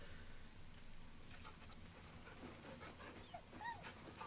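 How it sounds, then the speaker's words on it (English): A dog in the fantasy video game Baldur's Gate 3 is petted, giving faint whimpers and little yips over a soft, steady background of ambient music. "let's pet the dog."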